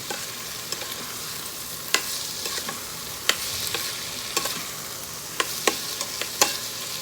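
Ginger and garlic stir-fried in an Instant Pot, a steady hiss of sizzling oil broken by several sharp scrapes and clinks of a utensil against the pot, close and alone with no voices.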